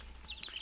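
Young chickens in a brooder box cluck briefly up close; the birds are being raised on a mixed feed that includes kitchen scraps.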